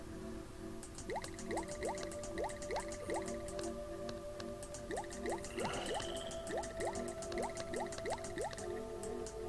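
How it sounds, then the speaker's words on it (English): Bubbles fired in rapid succession in the video game Soul Bubbles, a rhythmic run of bright popping drip-like blips with rising chirps, steady and close over a soft musical bed. "I just fire as many bubbles as I can"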